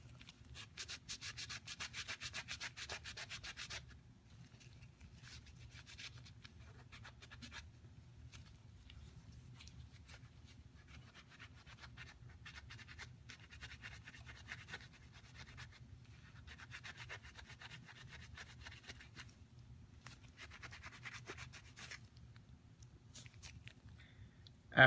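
Rust being rubbed off a gun with Lucas Extreme Duty gun oil, a steady, close scrubbing and sanding sound that runs throughout, louder for the first few seconds, with no talking.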